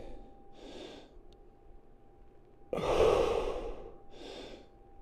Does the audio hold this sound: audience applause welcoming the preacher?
no